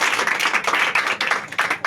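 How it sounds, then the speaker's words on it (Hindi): A crowd claps steadily for children at a Children's Day quiz prize ceremony, a dense, continuous patter of hands from start to finish with no talking. "ताली मारिए।"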